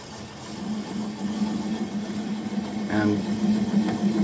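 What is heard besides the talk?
wood lathe turning alder bowl at around 200 RPM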